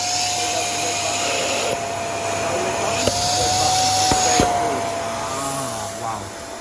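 Hoover bagged vacuum cleaner running continuously with a steady whining motor drone, pitch shifting slightly, while people talk over it.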